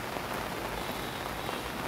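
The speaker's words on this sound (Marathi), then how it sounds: "नवी मुंबईमध्ये रात्रीपासूनच खरं तर पाऊस झालेला आहे" Heavy rain falls steadily in Navi Mumbai, a dense, continuous hiss of drops hitting surfaces. The downpour stays at an even, fairly loud level throughout, with no voices.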